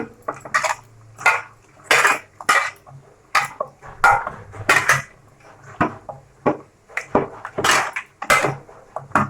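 Food being hand-mixed in a metal bowl with salt and turmeric for a marinade, giving repeated clinks and scrapes of utensils against the dish in an irregular rhythm, close and moderately loud, with no talk.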